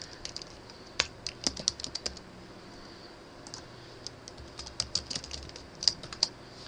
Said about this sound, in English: Now, I can still type.